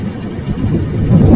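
Rain pours steadily through a forest in an animated tale, a dense, continuous hiss with low rumbling underneath that swells slightly louder toward the end, no voices.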